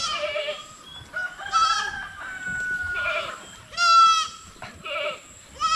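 Goats on a Philippine farm bleat in repeated wavering calls from several animals, some loud and near, others fainter, with a rooster-like cry mixed among them and no speech.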